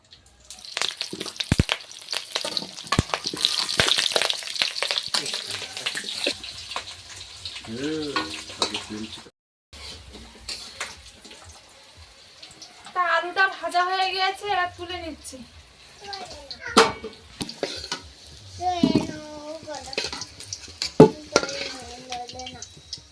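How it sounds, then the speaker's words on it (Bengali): Potatoes go into hot oil in a home kitchen, bursting into loud spattering sizzle with clattering utensils and stirring, while people talk intermittently over the frying. "তেলটা আমার গরম হয়ে গেছে এবার আমি আলুগুলো দিয়ে দেবো আস্তে আস্তে"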